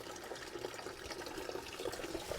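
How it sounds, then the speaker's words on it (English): Water runs into a Johnson's juice bottle outdoors at a bike park, a steady close trickling and splashing that rises and falls slightly as the bottle fills, with no talk. "the lovely Johnson's juice bottle here that I'm going to fill up with water"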